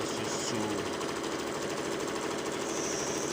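A sewing machine runs at a steady, close, continuous pace, stitching fabric pieces of a Papua New Guinea meri blouse together.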